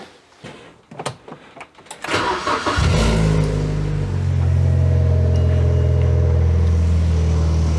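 BMW 116i car engine starting: a few clicks and rustles, then the starter cranks briefly and the engine catches into a steady, close idle hum that holds to the end.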